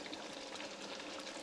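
A steady wet rushing pour of rinsed kidney beans tipped into a pot of chilli con carne, continuous and close with no break.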